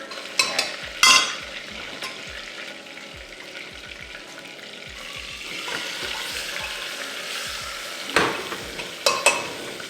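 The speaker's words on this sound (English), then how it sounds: "We're gonna take this and just pop it in there, and it should sizzle." Pot roast sears in hot oil in a pan, a steady sizzle and crackle with occasional sharp clanks of utensils and the meat being turned.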